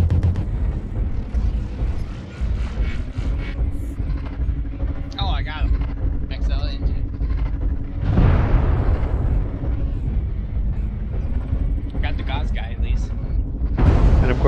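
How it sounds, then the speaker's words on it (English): Artillery strike explosions land in the MechWarrior Online video game: heavy booms hit around the middle and again at the end, over a constant mech engine hum and a voice talking. "Artillery strike activated."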